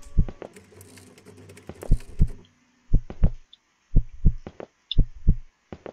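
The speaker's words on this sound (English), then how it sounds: "in games like this, it's always good to follow where your heartbeat gets faster" A heartbeat pounds in a horror video game, with steady paired low thumps repeating in a regular rhythm, loud and close, plus some faint background noise and no speech.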